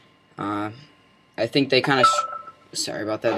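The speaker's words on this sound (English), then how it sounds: "That was my phone." A phone rings briefly with a short electronic tone burst, then a person speaks over it before a second tone near the end.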